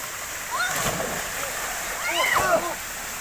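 Someone jumping into the water at Bolinao Falls in Pangasinan, two splashes about a second and a half apart over a steady roar of falling water, with people talking and calling out around them.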